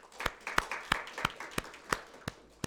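A church congregation claps in encouragement for children, about nine sharp, separate claps spaced roughly a third of a second apart, fairly close and moderately quiet in a room with no talk.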